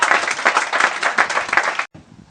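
A church congregation applauding together, dense hand clapping from a crowd, close and loud, cutting off abruptly near the end before faint room noise.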